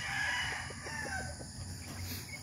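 A gamefowl rooster on a gamefarm crows once, a drawn-out rising call heard close and alone, with steady farm background hum underneath.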